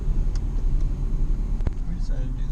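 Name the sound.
car passing by on the road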